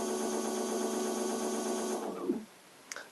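An e-bike hub motor spins under controller test, giving a steady whirring, buzzing drone for about two seconds before winding down, followed by a brief click; no one talks.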